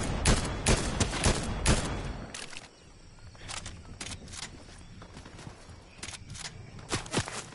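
Repeated gunshot bursts from a Fortnite match, sharp close cracks in quick clusters at first, then sparser shots mixed with scattered, fainter fire, with no talk over them.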